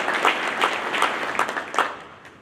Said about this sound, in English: I would ask our audience to join me in expressing our appreciation to them with a round of applause